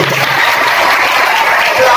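A school audience claps during a scouts and guides welcome ceremony, a brief, dense and steady patter of many hands.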